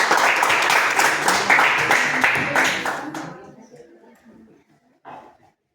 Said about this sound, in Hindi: राइट आंसर, बजाई ताली